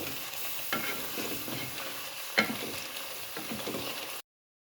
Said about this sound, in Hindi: पानी ऐड करने के बाद इसको हम थोड़ा सा भून देते हैं।